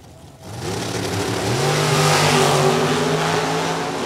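A drag racing car launches and makes its run at a night drag meet, its engine roaring loud and close, climbing in pitch as it accelerates hard and holds at a sustained high-revving scream.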